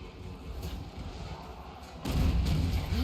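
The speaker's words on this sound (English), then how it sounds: "hand cannons firing in with impunity here" Massed hand cannons fire in a Total War: Warhammer 3 siege battle at Altdorf, a steady rumble of low booms and thuds that grows louder and denser partway through, without a clear break between shots.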